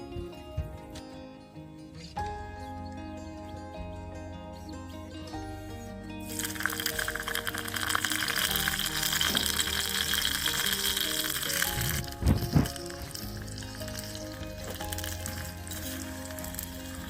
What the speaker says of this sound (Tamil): முதல்ல கத்திரிக்காவை கொஞ்சமாக எண்ணெய் சேர்த்து வதக்கி தனியாக எடுத்து வச்சிடலாம்.